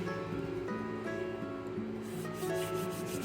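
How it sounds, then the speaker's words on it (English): Dough-covered hands rub briskly together while making rustic rosemary Kalamata olive bread, giving a steady close dry rasping, with music playing underneath. "if you need to get dough off your hands, rub them together"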